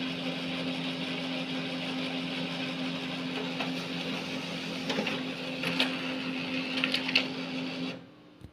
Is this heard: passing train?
no